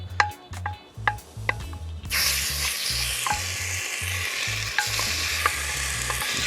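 A spoon clinks and stirs in a pot where browning sauce for Jamaican oxtail sizzles loudly, with steady frying hiss after a few opening scrapes and a low droning hum underneath.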